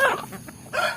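A free-range village chicken clucks nearby in two short bursts separated by a brief pause, moderately loud against a quiet background.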